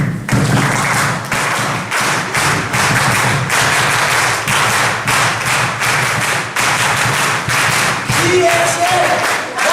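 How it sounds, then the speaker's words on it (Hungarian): A group claps a fast, driving 'let's go' cheer rhythm with sharp, evenly spaced beats repeating throughout, loud and close with voices faintly mixed in. "Ez egy ilyen szurkolói taps."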